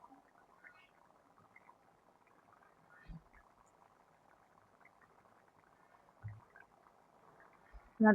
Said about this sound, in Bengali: তরকারিটাতে বলক চলে আসছে